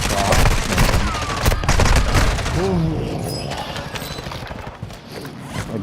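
Video game gunfire from a weapon holding only 30 rounds: loud, dense bursts of rapid shots crowd the first three seconds, then thin into scattered cracks and softer in-game effects, with a muffled voice briefly underneath.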